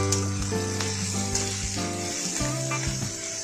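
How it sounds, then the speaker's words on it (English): Capsicum cubes sauté in a hot pan, giving a steady loud sizzle with occasional scraping stirs. A low constant hum runs underneath. "add chopped Shimla Mirch or capsicum cubes to the pan and saute"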